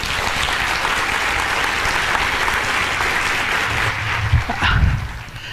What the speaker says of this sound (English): For that you have to clap